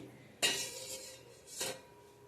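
A metal ring dropped into a cooking pot of water being heated in a home kitchen, giving one sharp metallic clink followed by a second softer clank about a second later, close and fairly quiet.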